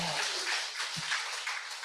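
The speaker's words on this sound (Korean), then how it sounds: "자신들을 위해서 박수 한번 쳐볼까요?" Audience applause at a lecture, a dense, even patter of many hands that is fairly faint and continuous.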